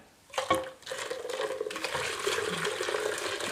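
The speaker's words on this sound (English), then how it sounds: "I'm just going to pour this right into the pot of cream." A mixture is poured into a pot of cream in a home kitchen, a short clatter giving way to a continuous liquid pour and splash lasting a few seconds.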